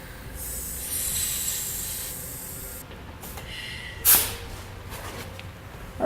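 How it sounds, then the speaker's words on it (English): Compressed air hisses as Air Lift LoadLifter helper spring airbags on a 2016 GMC Sierra are inflated to about 30 psi, a steady broadband rush with a sharper burst partway through. "now we'll inflate both of our airbags to about 30 psi and check for leaks"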